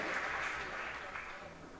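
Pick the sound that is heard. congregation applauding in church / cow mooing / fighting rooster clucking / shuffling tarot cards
congregation applauding in church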